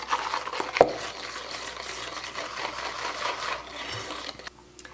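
Liquid being mixed into a chocolate hazelnut ice cream mixture, a continuous close rubbing and stirring swish with one brief clink early on, fading quieter at the end.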